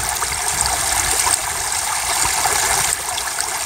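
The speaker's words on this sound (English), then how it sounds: "there is giant waterfalls and there is tiny ones like this that do the job" A small waterfall pours continuously, making a close, loud, steady splashing and trickling wash with no voices over it.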